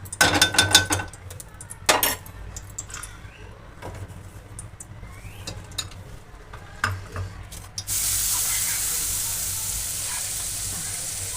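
Grated carrot stirred in ghee in a kadai, heard as close scraping and clinking of a spoon against the pan with irregular bursts, then a steady sizzle rising near the end; no talking.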